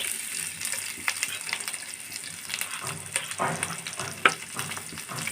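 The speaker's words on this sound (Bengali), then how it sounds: "পেস্ট এগুলো দিয়ে আমি সুন্দর করে নেড়ে চেড়ে লাল লাল করে ভেজে নেব" Green chili, ginger and garlic paste sizzles in hot oil while being stirred in a pan, for a spiny eel (baim fish) curry. A steady crackling fry with scattered sharp clinks and scrapes from the stirring.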